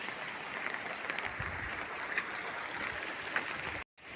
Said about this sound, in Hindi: तुरेश्वर का यह झरना अपनी सुषमा को समेटे हुए है।